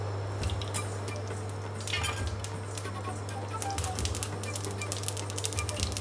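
Mustard seeds popping in a glug of hot oil while tempering for lemon rice, a steady low hum under scattered sharp crackles and clinks, fairly faint and with no talking.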